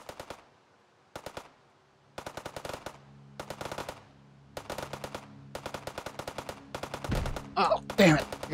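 Automatic gunfire in the VR shooter game Hot Dogs, Horseshoes & Hand Grenades, loud sharp rapid bursts separated by short pauses, ending with heavier impacts and a voice reacting.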